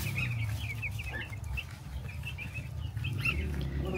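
A large poultry farm full of chickens: dense overlapping clucks and chirps, constant and moderately near, over a low droning background hum.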